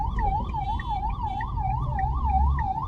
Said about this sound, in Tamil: அங்கே வருங்க இன்னொருத்தர் ஆப்போசிட்டில் ஆம்புலன்ஸ் வந்துட்டு இருக்குதுங்க.